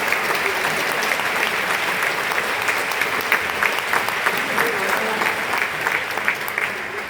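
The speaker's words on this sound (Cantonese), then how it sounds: "再一次，即將你哋最熱烈嘅掌聲獻俾咁多位作曲家。" A concert-hall audience applauds the composers after a choir performance, a loud, dense, sustained clatter of many hands clapping close and steady throughout.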